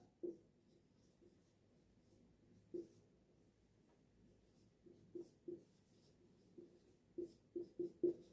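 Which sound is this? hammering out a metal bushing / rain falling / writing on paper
writing on paper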